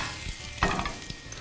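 Squid sizzling in a hot pan, a soft continuous frying hiss with a brief louder crackle partway through, close and fairly quiet.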